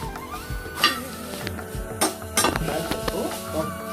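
Drumstick leaves are roasted with a few drops of oil in a kadai, the spatula scraping and clinking against the metal pan in irregular knocks over background music.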